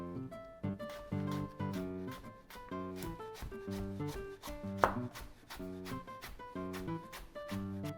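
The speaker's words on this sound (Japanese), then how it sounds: "端から切っていきましょう" A knife slices a carrot into thin pieces on a cutting board, producing a quick, steady series of crisp chops, close up and moderately quiet, with no voices.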